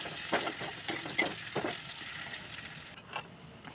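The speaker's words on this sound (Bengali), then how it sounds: "অল্প একটু তেল দিয়ে এবার আমি যে কুচনো রসুন তার মধ্যে দিয়ে দিলাম। রসুনটা আগে ভাজা ভাজা হয়ে গেলে তারপর গাজর কুচোগুলো আমি দিয়ে দিচ্ছি" Chopped garlic and carrots fry in a little oil, giving a steady close sizzle with a few sharper spits and stirring scrapes, fading to a quieter hiss near the end.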